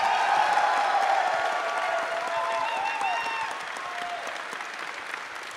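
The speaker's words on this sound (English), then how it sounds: "I want a round of applause" Sustained, dense applause fills a live gaming podcast panel at PlayStation Experience, a steady wash of many hands from the audience, slowly easing in the last seconds.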